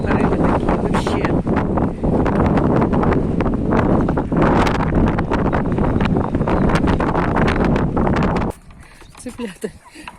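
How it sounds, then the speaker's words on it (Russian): Strong, gusty wind buffeting the microphone outdoors amid smoke, a continuous loud roaring rush that drops away abruptly near the end, with people talking over it. "Тоже такие порывы ветра."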